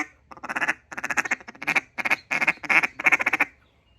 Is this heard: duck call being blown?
yes